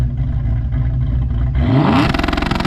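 Supercharged Mustang GT V8 engine idling with a lumpy rumble, then revving up sharply and holding against 2-step launch control with rapid popping stutter, loud and close.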